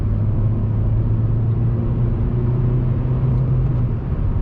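A non-SI Honda Civic engine drones loud and steady from inside the car, its pitch swelling slightly as it revs through downshifts.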